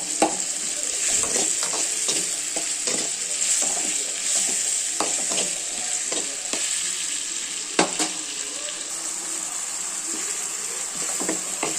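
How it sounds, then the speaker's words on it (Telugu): A bean and tomato curry with onions stirred in a pan over steady close sizzling, with repeated soft scraping strokes of a spoon across the pan bottom throughout and no voices. "బాగా కలుపుకోవాలి. ఇలా బాగా మగ్గనివ్వాలి."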